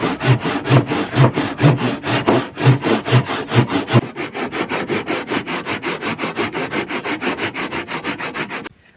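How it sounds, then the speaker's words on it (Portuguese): A handsaw cuts through wood for a homemade phone stand in a quick, even rhythm of rasping strokes, close and loud, keeping pace throughout before stopping at the end. "Nessa parte não vou serrar muito"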